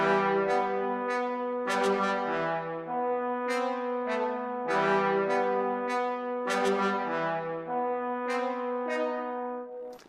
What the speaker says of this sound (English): Now the trombones sound like this.